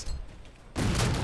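A Halo 4 grenade explosion in a multiplayer match erupts suddenly after a quiet stretch, a loud, sustained broadband blast with crackling debris that holds to the end.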